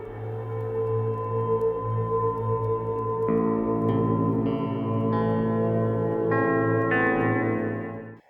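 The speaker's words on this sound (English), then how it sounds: "very minimalist notes of mournful guitar" Slow, sparse, mournful guitar notes from an album ring out one at a time, each washed in long, heavy reverb that trails into near silence at the end.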